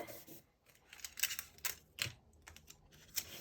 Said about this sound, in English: I'm going to tape it into the inside with some Scotch tape